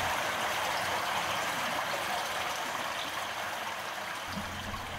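Water flows steadily through a culvert fitted with an area velocity flow sensor, producing a constant broadband rushing hiss that stays even throughout.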